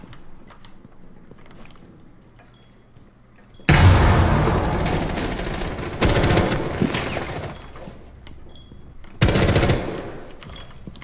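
Automatic gunfire in the tactical shooter game Rainbow Six Siege, with loud sustained bursts starting abruptly after a quiet stretch, then further rattling volleys and a sharp final burst near the end, no talking.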